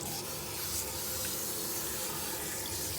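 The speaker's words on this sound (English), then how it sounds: "When you rinse behind her ear, you always want to hold her ear shut." Steady, close running water rinses a cat during a bath, a continuous faucet-like spray and splatter with no voices.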